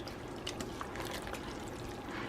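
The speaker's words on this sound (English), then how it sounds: "Just gonna give it a quick stir" A spoon stirs a thick hamburger stew in a pot, making a steady wet sloshing and swirling close by, with no break and no voices.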